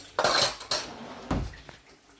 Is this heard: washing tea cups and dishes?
yes